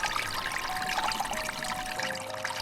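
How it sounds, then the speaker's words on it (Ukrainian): Spring water pours into a bronze half-bowl decorated with snakes and spills over into an underground granite channel at Sofiyivka park in Uman, a steady close splashing trickle with no voices. "Вода наповнює бронзову напівчашу, прикрашену декоративним зображенням вужів. Вона переливається через її краї, стікає по гранітному підземному каналу"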